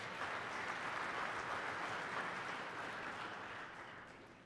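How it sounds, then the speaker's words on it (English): Church congregation applause during a homily, a faint, distant wash of steady clapping from a large room that tapers off toward the end. "Give him a round of applause."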